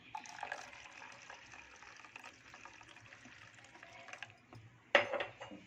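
Water is poured into solkadhi, a pink drink, in a steady, moderately loud trickling stream that ends in a brief, sharper splash and clink.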